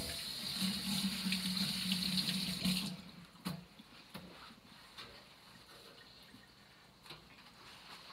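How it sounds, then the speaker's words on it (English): A kitchen tap runs as hands are rinsed after coating chicken, a steady stream of water for about three seconds, then it stops and a few faint knocks and handling sounds follow. "let's give my hands a rinse."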